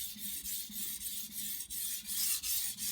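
A knife's primary edge is stroked along a sharpening stone at about 20 degrees, producing a quick, regular series of gritty rasping scrapes, close and steady, about three strokes per second.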